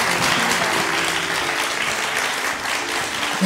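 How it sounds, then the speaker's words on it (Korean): A studio audience at a Korean KBS broadcast bursts into sustained, dense applause, loud and even throughout with a faint voice beneath. "박수 보내주십시오"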